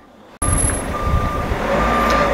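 A truck's reversing alarm beeps steadily over a low engine rumble, starting abruptly after a brief quiet moment at the start.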